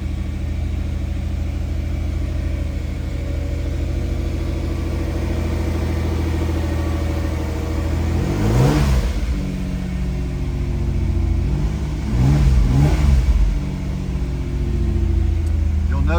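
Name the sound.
1988 Pontiac Fiero Formula engine at high idle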